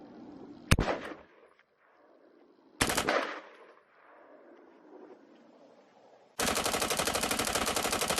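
Rifle fitted with a bump stock, two separate sharp shots followed by a long, fast, evenly spaced string of rapid fire, loud and close.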